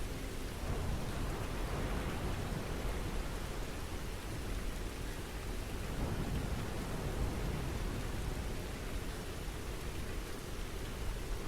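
Steady rain hisses in an even, unbroken wash throughout, soft and continuous like a downpour heard from indoors, with no voices.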